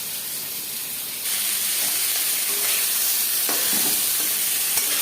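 Fish head fries in a pan. A constant sizzling hiss jumps louder after the first second and then holds steady with faint stirring scrapes.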